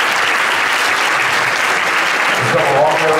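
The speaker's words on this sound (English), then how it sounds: "I want to give the band another round of applause because they worked so hard" Loud, dense applause fills a school holiday concert hall for the middle school band, a steady wash of many hands clapping at once with no break.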